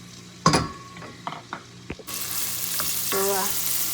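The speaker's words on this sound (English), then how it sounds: "Now I'm adding my" Onion dropped into hot olive oil and butter in a pan, with a few clanks of utensils and stirring, then a sudden loud, bright sizzle that keeps going steadily and close.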